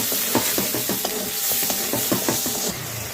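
Spices sautéing with salt, turmeric, chili powder and cumin powder in a pan for a curd-based katla fish curry, a steady close sizzle with a rhythmic series of spoon scrapes and stirs.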